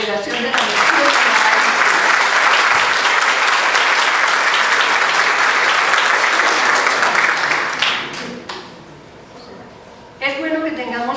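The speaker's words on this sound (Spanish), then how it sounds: "Un aplauso para la Congregación de la Misión." Loud, dense applause from a conference audience celebrating the Congregation of the Mission and 400 years of the Vincentian charism, sustained for about eight seconds before thinning to scattered claps and then a brief renewed burst.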